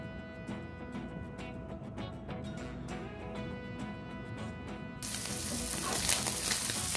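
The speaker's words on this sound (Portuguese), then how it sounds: "eu vou deixar o meu bacon fritar primeiro" Bacon frying in a pan crackles with a constant close sizzle and scattered sharp pops, turning brighter and louder partway through as the hiss intensifies; no speech.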